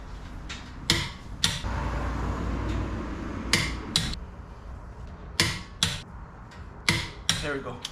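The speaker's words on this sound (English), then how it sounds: "So now we're just gonna slowly but surely start tightening these wheels up" Lug nuts on a 2015 Scion tC wheel are tightened with a torque wrench: sharp metallic clicks and knocks come in irregular bursts, fairly close, over a low background rumble.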